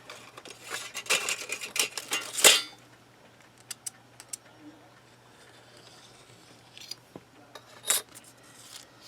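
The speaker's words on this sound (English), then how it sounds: "I'm just going to trim off this edge." A blade trims the edge of a polymer clay piece on a work surface, giving a few soft, close cutting and scraping clicks in the first few seconds, then sparse small taps and clicks in a quiet room.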